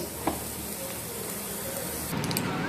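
Khova bobbatlu, small milk-solid filled sweets, frying in ghee in a pan, a steady soft sizzle with faint stirring clinks near the end.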